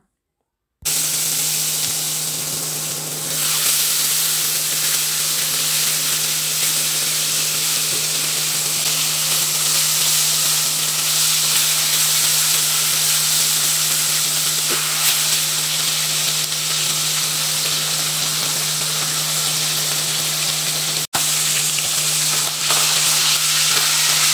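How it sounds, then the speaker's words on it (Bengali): Fish pieces, heads and tails included, fry in hot oil in a pan, giving a loud, steady sizzling hiss that runs unbroken and close for the whole stretch, with only a brief dropout near the end. "এদিকে মাছগুলো ভাজা হোক"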